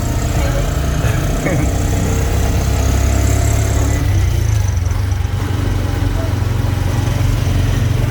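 Motorized tricycle riding in Cebu, Philippines, a loud constant engine drone with heavy low rumble throughout, road and wind noise mixed in.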